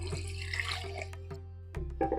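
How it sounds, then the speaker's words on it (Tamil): Water runs and splashes into a pot of lentils, a close, steady pour with a few clinks, broken briefly near the end. "இந்த பருப்பு மூழ்கிற அளவுக்கு தண்ணி"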